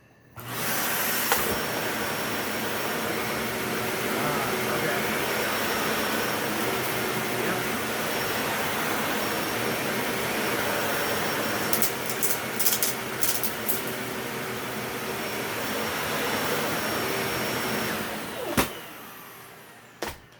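A Dyson Ball Animal 2 upright vacuum fitted with a DC41 cleaner head runs steadily at close range, a constant motor whine and airflow roar with a few brief clicks near the end before it cuts off.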